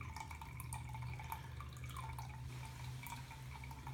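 Water trickles steadily from an old exterior footing drain tile, a faint continuous running with light dripping over a low background hum, and no talk.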